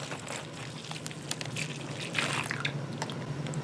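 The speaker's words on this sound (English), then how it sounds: "you're going to pour the extraction fluid onto the strawberry" Extraction fluid is poured onto a strawberry inside a Ziploc plastic bag, producing close, soft liquid splashing and trickling with scattered drips, with no talk.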